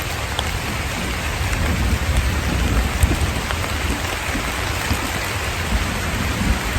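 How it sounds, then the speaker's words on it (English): Heavy rain pours steadily in a forest during a thunderstorm, a dense, even hiss of drops on leaves and ground with low rumbling beneath, constant and close throughout, no voices. "This forest is creepy enough during the good weather, but now with this rainstorm"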